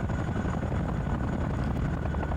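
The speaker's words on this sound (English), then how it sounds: "So let's get this chopper down about here" A military helicopter sets down in the Squad Battles war game, its rotor and engine a dense, steady, close rumble that fills the whole stretch without letup.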